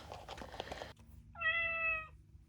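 A rechargeable electronic ragdoll toy cat gives one clear synthetic meow, loud and close, after a short stretch of soft background noise.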